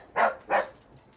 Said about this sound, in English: When you hear dogs barking in my videos